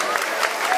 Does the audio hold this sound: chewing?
no